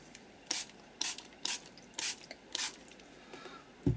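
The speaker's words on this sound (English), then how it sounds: "So I want to spritz. Just a little bit," A spray bottle spritzes water onto a mixed media art journal page in six short, crisp hissing bursts about half a second apart, close and clear against a quiet room.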